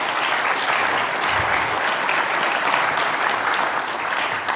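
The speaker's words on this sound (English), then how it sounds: "Can we get a warm round of applause?" Warm round of applause from the audience at an energy-future panel discussion, dense steady clapping sustained throughout at a fairly loud, even level with no voices over it.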